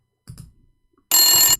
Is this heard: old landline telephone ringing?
yes